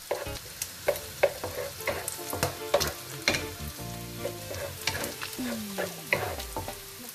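Garlic sautés in a pan for ginisang monggo, a soft sizzle broken by repeated clinks and scrapes of a utensil stirring, with no talk.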